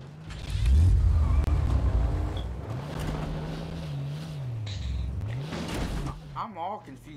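Car engine in Fortnite droning and shifting pitch as the vehicle is driven, with a steady revving hum rising and falling over several seconds, fairly loud, with brief game effects near the end.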